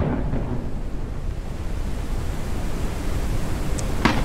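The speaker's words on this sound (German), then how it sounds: "Oh, der Sturm ist da." Thunderstorm in the video game Forever Skies, a steady loud broadband rumble of wind and rain with a brief sharper crack near the end, no talking.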